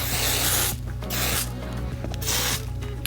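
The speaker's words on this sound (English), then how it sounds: "I'm going to go in with my Kenra Alcohol-Free Shaping Spray and just lightly coat that first layer in hairspray" Kenra Alcohol-Free Shaping Spray hairspray hisses out of its can in three long, loud bursts with short pauses between them. It is close to the listener and heard alone.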